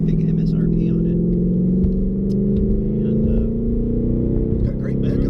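A 2019 Ford Mustang GT S550 accelerating, its engine note rising steadily as a loud, continuous rumbling drone heard from inside the car, with people talking over it.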